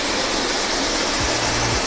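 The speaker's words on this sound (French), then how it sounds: "Là, on est complètement derrière la cascade." A waterfall heard from behind the cascade, a loud, dense, unbroken roar of falling water filling the space, with a faint low hum rising briefly underneath.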